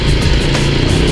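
A Yamaha Aerox scooter fitted with a JVT V3 aftermarket exhaust pipe rumbles up close, a loud, steady raspy engine note with no clear pauses.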